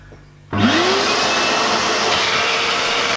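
A wet vacuum switches on abruptly to suck water out of the tray of a Megaflo unvented hot water cylinder. Its motor whines up in pitch, then settles into a loud, steady roar close by until it cuts off at the end.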